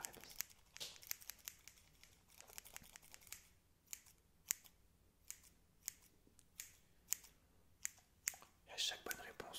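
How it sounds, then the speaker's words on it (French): Scissors snip hair close up in a quiet ASMR roleplay, a series of crisp separate cuts at uneven intervals under soft whispering. "à chaque bonne réponse, je te coupe un peu plus les cheveux"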